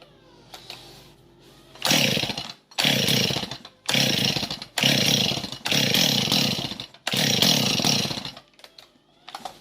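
A Husqvarna 45 chainsaw engine with a ported cylinder revs in six loud, close bursts, each rising and dropping back, after a quiet moment of sputtering at the start.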